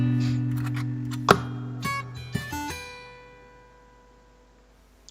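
Two-hand percussive tapping on guitar, two tapped parts combined: a few sharp struck attacks with sustained ringing notes that fade out over several seconds, played alone.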